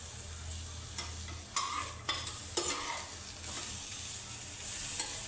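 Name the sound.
roasted brinjal pieces stirred and frying in pan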